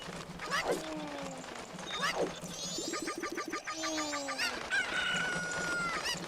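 Rapid clucking and crowing from a chicken in the video game Majora's Mask, repeated in bursts alongside bright game chimes and background music.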